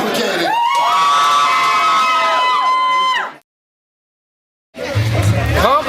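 Loud crowd cheering and whooping at a 2015 On The Spot Battle League rap battle as the decision is given, a dense roar of shouts and yells that cuts off abruptly, then a brief pause before the noise resumes.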